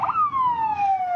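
A police car siren wails during a chase, a single loud descending tone sweeping down across the whole second, close by and with no talk over it.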